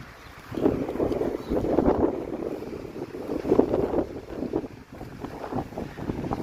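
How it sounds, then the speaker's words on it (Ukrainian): Strong wind rumbles steadily against the microphone on a Bulgarian beach while sea waves wash in the background, the roar swelling and easing in gusts. "сьогодні хвилі, дуже сильний такий вітер"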